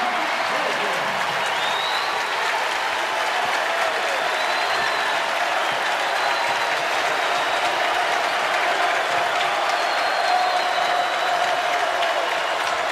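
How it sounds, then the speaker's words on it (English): Home crowd at a VCU versus Wake Forest NIT college basketball game cheering and applauding on their feet, a loud sustained roar throughout with arena whistles and faint talk mixed in. "Rebound by Monsanto as the home crowd is on their feet."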